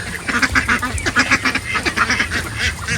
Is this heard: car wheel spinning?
no